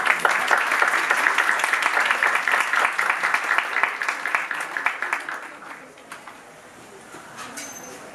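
Seminar audience applause on legal certainty and notarial work fills the first five seconds with dense, crisp clapping, then thins to scattered claps and fades as the room quiets.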